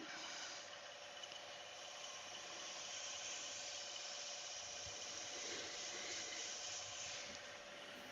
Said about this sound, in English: it's not very interesting to watch sanding